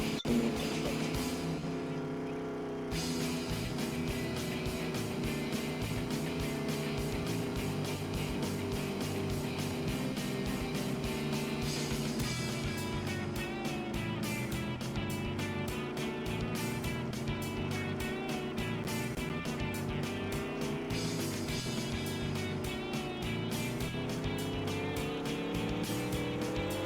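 A car is driven slowly in the Roblox game Mad City, a steady synthetic engine hum running throughout with faint game sounds layered on top and no voices.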